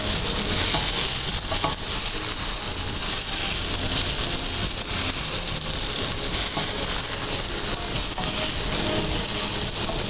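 A black pepper steak cooking in a pan over very low heat, giving a steady, even sizzle that stays constant throughout with no pauses and no speech.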